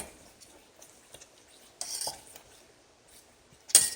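A thickening maple syrup mixture for a pie, stirred over medium heat in a pot: scattered spoon scrapes and clinks against the metal, with a couple of louder knocks, close and otherwise quiet.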